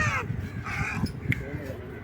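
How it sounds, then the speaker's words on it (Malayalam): A crow caws a few times at middle distance, short harsh calls standing out against faint background talk. "അതൊരു കാക്കയാ"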